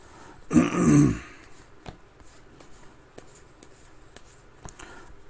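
One rough, throaty cough bursts out near the start, followed by quiet rustling and small scattered clicks.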